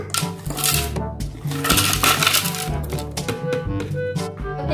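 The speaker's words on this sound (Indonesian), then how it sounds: "Kita masukkan es batunya." Ice cubes drop into a banana Milo drink with bright, clattering clinks that burst out over steady background music.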